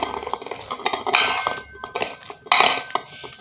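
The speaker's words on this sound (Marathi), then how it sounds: "हे लसूण पण असं एकजीव करून घेते" Garlic being pounded into a rustic green-chilli thecha, a series of close, sharp knocking and clinking strikes in uneven bursts with brief pauses between.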